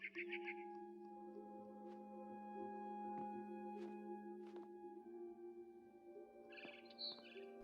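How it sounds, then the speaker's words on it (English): A barn swallow chirps in the video game What Remains of Edith Finch, short bright twittering bursts at the start and end, over a soft sustained musical drone with a few faint clicks. "Then I heard chirping outside my window."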